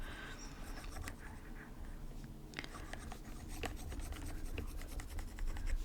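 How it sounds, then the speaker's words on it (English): Written work is erased from a board with steady rubbing and scratchy strokes, close and fairly quiet, with no voices. "let me erase some of this stuff"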